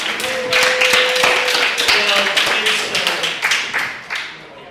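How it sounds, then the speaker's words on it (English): An audience gives a round of applause at a launch event on mapping New York Chinatown, close, lively clapping from a crowd that holds steady and then tapers off, with a faint voice underneath. "I think that deserves like another round of applause."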